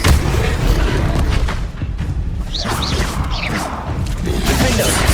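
Confringo explosive spell from Hogwarts Legacy: a continuous loud rumbling blast and crashing combat noise fills the scene, with a few short whooshing spell effects layered on top.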